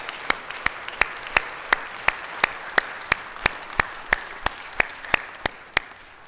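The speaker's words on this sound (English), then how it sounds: "Let's give them a big round of applause" Clapping at a city budget day event honoring budget advocates, heard as a regular series of loud, evenly spaced sharp claps about every third of a second over a softer background of wider applause.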